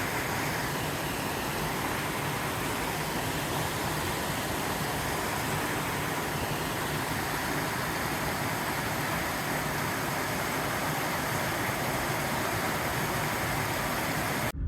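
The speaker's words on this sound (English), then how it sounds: "Here's the waterfall tumbling into Twin Lakes at Mammoth Lakes" Waterfall tumbling into Twin Lakes at Mammoth Lakes, California, after a storm: a steady, dense broadband rush of falling water, constant and unbroken throughout with no voices.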